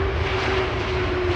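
A Boeing 737 airliner at Schiphol Airport gives a loud, steady jet engine roar with a sustained whine running throughout.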